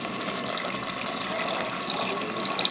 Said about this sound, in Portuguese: A gente vai adicionando a água